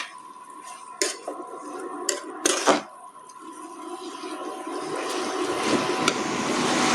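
Fried mushrooms stirred in a cooking pan with chilli, turmeric and garam masala nearby, giving a few sharp utensil scrapes and clinks early on over a steady, soft sizzle that grows gradually louder.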